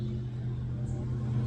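Car passing on a quiet rural road near a deer camp, a low steady engine rumble close by, lasting briefly with no voices.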